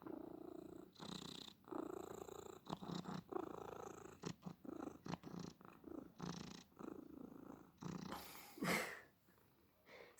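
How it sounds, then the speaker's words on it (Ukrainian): A cat purrs close by in uneven rumbling bursts, with brief breathy snorts and a rustle near the end. "Чутно щасливе муркотіння."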